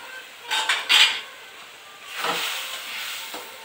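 Leftover fruit juice pulp being mixed in a bowl for rava barfi: a few quick metal-spoon clinks, then a softer, steady scraping stir close by.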